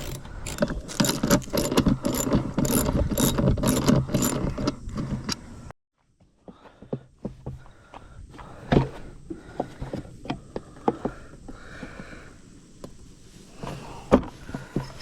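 Ratchet loosening the three bolts holding the fuel tank on an old 7.5 HP outboard motor, bursts of rapid clicking close up, a brief silent gap, then slower scattered ratchet clicks and metallic taps.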